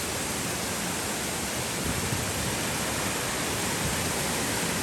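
Water pours continuously over an aqueduct waterfall in Bali, giving a dense, steady hiss and rush at close range with no pauses or other sounds.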